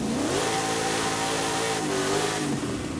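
A drift-build car revving in Forza Horizon 5, its engine rising and falling in pitch across sustained loud revs, close and continuous with no talk.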